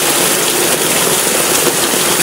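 Heavy rain pours down steadily over a flooded street in Tondo, Manila, a dense, loud broadband roar with no pauses and no voices.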